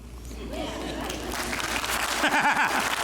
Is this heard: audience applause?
yes